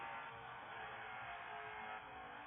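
A new car drives off, a steady engine and road roar filling the space throughout, loud and close, with no voices.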